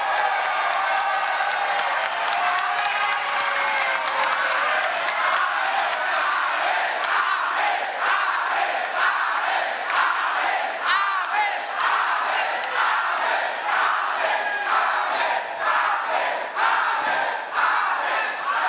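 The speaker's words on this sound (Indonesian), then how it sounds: "Kita berdiri memberikan aplaus kepada mereka berdua" A large audience at an Indonesian political candidate declaration stands and applauds, a loud, dense, continuous wall of clapping and crowd cheering throughout.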